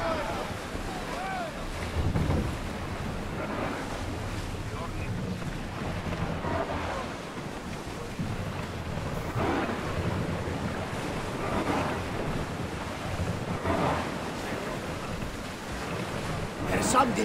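Ship sailing across ocean waves in Assassin's Creed Odyssey, a steady broadband wash of water and wind rushing throughout with soft surges, continuous and fairly loud.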